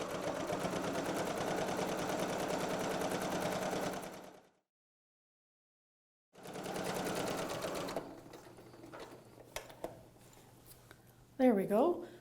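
A sewing machine set to a fast speed stitches a quilt, giving a loud, steady rapid whirr for several seconds. It stops, then runs again before giving way to quieter handling noises and light clicks.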